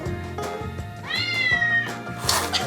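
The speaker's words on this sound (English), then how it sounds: "Like this meowing app that the owner has installed on her smartphone." A cat meow played from a smartphone meowing app, a drawn-out rising-and-falling tone standing out clearly over a low background hum, with a brief noisy rustle at the end.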